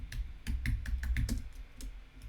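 Quiet keystrokes on a computer keyboard tap out a quick, uneven run of about a dozen clicks close by, with no talking.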